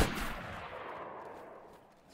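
In the video game STALKER, a single gunshot aimed at a dog cracks sharply, then fades into a long, quiet echoing tail with no voices.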